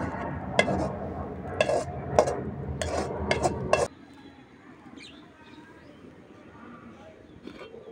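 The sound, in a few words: cauliflower fry being moved from the pan into a bowl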